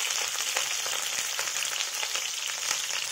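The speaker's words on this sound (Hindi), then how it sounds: "इसको हम फ्राई करते हैं हल्का से" Aloo gobi, potato and cauliflower pieces, frying lightly in a little hot oil, giving a steady, close, even sizzle that runs throughout with faint crackles and no talk.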